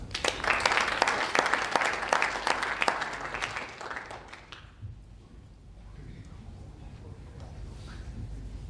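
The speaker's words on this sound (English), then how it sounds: "Please join me in a warm applause for Mr." Warm applause from a conference audience in a hall in Barcelona, dense clapping for the first four seconds and then fading into a quieter room murmur with scattered movement.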